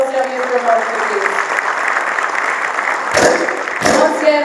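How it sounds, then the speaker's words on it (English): Applause from an audience at a tech event hosted by Times Techies Tech Drive with Lenovo, a dense, loud wash of clapping filling the room throughout, with a voice briefly heard at the start. "can we have a louder round of applause coming from our please?"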